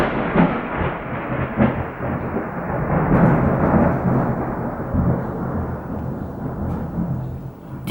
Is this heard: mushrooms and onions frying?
no